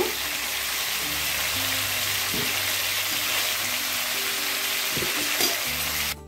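Cauliflower fries in oil in a pan, a steady, close sizzle with a continuous bright hiss and occasional stirring scrapes, cutting off near the end.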